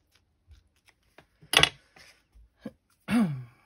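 Scissors trimming the edge of a paper tag in a quiet room: a few crisp, close snips and small paper rustles spaced apart, with a soft vocal sound at the end.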